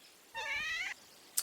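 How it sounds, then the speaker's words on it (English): A cat in the video game Kingdom Come Deliverance 2 lets out a single clear, drawn-out meow, close and fairly quiet against a hushed background, followed by a short faint click. "Oh, is that a little kitty cat you've got there?"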